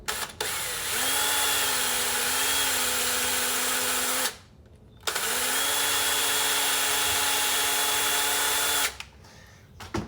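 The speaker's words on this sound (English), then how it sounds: "So we're gonna drill this out too." A power drill bores out a small plastic blind piece in two steady whirring bursts of about three and four seconds, separated by a short pause, close and alone with no talking.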